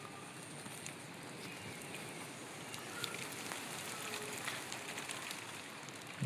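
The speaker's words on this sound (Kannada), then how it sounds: "ಇಲ್ಲಿ ನೋಡಿ ಮಳೆ ಸಹ ಹೆಂಗೆ ಬರ್ತಾಯಿದೆ" Rain falls steadily on a Sakleshpur estate during the monsoon, a faint, even hiss with no talking and only slight swells in loudness.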